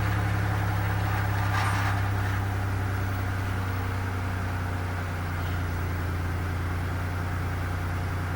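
1990 Oldsmobile Trofeo with an idle fault, engine idling steadily with a low, even hum close by for the whole stretch, no talking.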